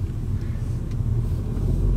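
A VW T-Cross R-line takes a corner with no tire squeal, giving a steady low road rumble and engine drone from inside the cabin with no talk over it.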